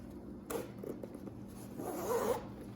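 A zipper on the compartment of an Away hardshell carry-on suitcase is pulled open in two close, rasping runs, the second longer and louder.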